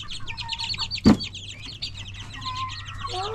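Chickens in a coop cluck and chatter continuously at close range, with one sharp knock partway through.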